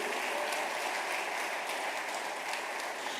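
Continuous applause from a church congregation during a worship service, steady dense clapping filling the whole stretch at moderate level without a break, with no talk over it.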